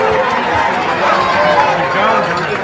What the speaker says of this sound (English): let's just give every contestant a loud round of applause